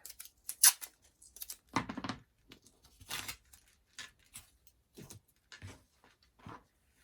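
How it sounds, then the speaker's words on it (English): Tape being pulled and torn off a roll while working on a macramé tree, heard as a few close, dry ripping and crinkling bursts separated by short quiet gaps, with no talk. "I'm going to get some new tape"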